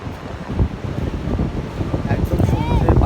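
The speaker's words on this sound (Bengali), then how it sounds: "খুব সুন্দর হাওয়া, অনেক জোরে হাওয়া। আর ঢেউ দেখুন, আরব সাগরের কি ঢেউ।" Strong wind buffets the microphone on a beach by the Arabian Sea near Mumbai, with waves rumbling and washing in steadily underneath; the roar is continuous and fairly loud throughout.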